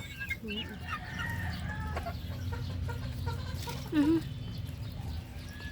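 Growing chicks fed boiled egg and banana peep and cluck in short, high chirps, with an adult hen's clucks and soft pecking against a steady low farmyard hum.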